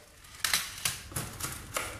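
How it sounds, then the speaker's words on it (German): A coin drops into the slot of an electric billiard replica and rattles down through the mechanism, a quick series of four or five sharp metallic clacks, close and alone. "Wenn ich jetzt hier oben die Münze einwerfe,"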